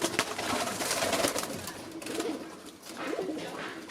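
Zamość pigeons coo softly and repeatedly in a loft, their low throaty calls blending with a steady rustling background throughout.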